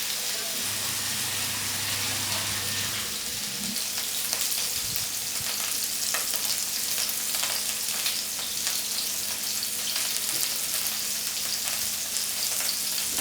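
Cauliflower and potato fry in a pan with a constant close sizzle and hiss, broken by stirring scrapes and a low hum early on; a voice is faintly present at times.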